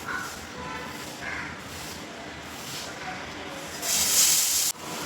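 Cumin seeds sizzle in hot oil, a steady crackling hiss that swells louder and brighter for a moment toward the end, with someone speaking over it.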